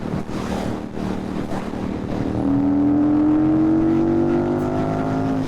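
A 2008 KTM 990 Super Duke cruising in fifth gear at about 60 mph, its engine a steady droning tone that rises slightly in pitch midway, wrapped in heavy wind rush, no talk.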